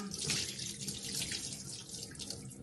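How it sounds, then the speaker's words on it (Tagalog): Tap water runs steadily into a sink while rice is washed, a constant hissing splash with faint stirring and clinking underneath. "hugasan natin ang ating rice"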